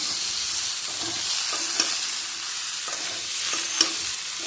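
Snake gourd (chichinga) sautéing in a pan with spices for a crab and potato curry, a steady bright hiss with occasional light stirring taps.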